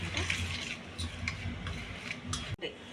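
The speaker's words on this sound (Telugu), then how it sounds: "మనం స్పూన్తో మసాలాని మిక్స్ అయ్యేలాగా కలుపుకోవాలి" A spoon stirring masala in a pan while cooking chana dal vada curry, with steady scraping and a soft background sizzle, repeated light clicks of the spoon against the pan, and a brief knock near the end.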